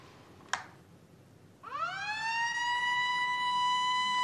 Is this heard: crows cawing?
no